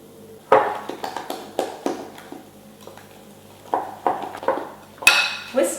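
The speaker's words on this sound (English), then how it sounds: "To make the batter, mix flour with baking powder with a little salt, eggs and about 1/3 of milk until smooth." Crepe batter of flour, baking powder, salt, eggs and milk being mixed in a bowl at home, heard as a run of close clinks, taps and scrapes of a utensil against the bowl in uneven bursts.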